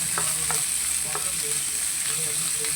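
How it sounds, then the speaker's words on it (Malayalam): Two large onions sauté in a pan for an egg thoran, giving a steady close sizzle with light scraping strokes from stirring spaced through it, and no voices. "വലിയ 2 സവാള എടുത്തിട്ടുണ്ട്. അത് നമുക്ക് ഇതിലേക്ക് ചേർത്തൊന്ന് വഴറ്റിയെടുക്കാം"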